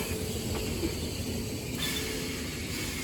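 A Southern service train pulling out of Sydenham station on the Brighton Main Line, heard as a steady rumbling roll with a faint hiss and a brief squeal of wheels, at moderate distance with no speech.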